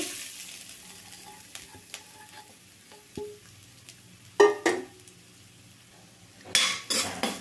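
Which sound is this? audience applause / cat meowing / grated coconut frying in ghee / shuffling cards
grated coconut frying in ghee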